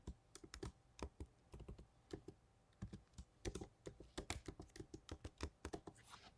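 Steady typing on a computer keyboard, quick irregular key clicks close by with short pauses, no voices.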